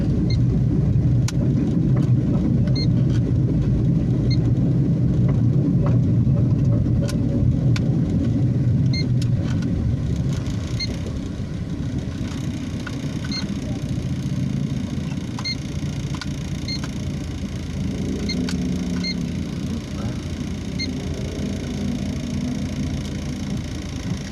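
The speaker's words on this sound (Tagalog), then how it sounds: "Inabot pa tayo ng traffic dito sa kanto ng Kamyas at Anonas." A car's engine rumbles steadily while sitting in street traffic at a city intersection, a continuous low drone with faint clicks, easing slightly partway through, no voices.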